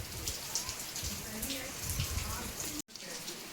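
Rain pours steadily onto a cotton field during the monsoon, a dense broadband patter that continues without a break and then drops out abruptly for an instant near the end before resuming.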